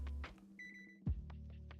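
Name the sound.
stove timer beeping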